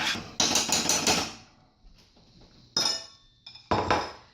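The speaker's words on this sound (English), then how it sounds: "So in they go. And give it a stir." Frozen blueberries are tipped into a pot or bowl of oatmeal and stirred with a utensil, producing sharp clinks and scraping knocks against the dish in several short, loud bursts separated by brief quiet gaps.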